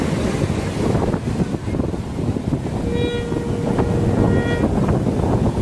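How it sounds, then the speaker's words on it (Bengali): Ocean surf at Puri beach at night, a steady broadband wash of waves and wind rumbling close to the microphone, with a faint tonal whistle partway through and no speech. "ঢেউ বারবার করে উঠে আসছে আর আমাদের পাশে উঠে যাচ্ছে।"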